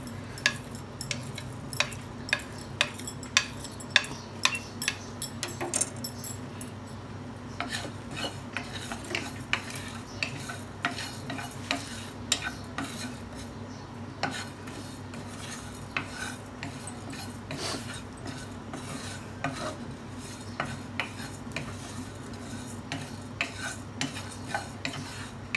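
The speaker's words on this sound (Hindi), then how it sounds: "अब साबित मसाले को मैं रोस्ट कर रही हूँ। धनिया, ज़ीरा पहले हल्का इनको कर लूँ," Whole coriander and cumin seeds dry-roasting in a pan while being stirred, giving a quiet, continuous scrape and rustle with frequent small clicks and ticks of seeds and utensil against the metal.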